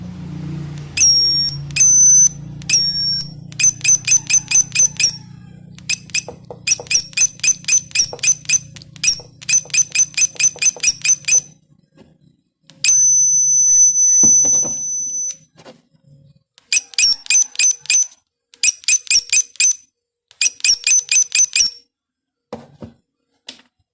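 A homemade flyback transformer inverter running at high voltage, its loud buzzing tone coming in short rhythmic bursts and a few longer steady stretches, with brief gaps of silence between them.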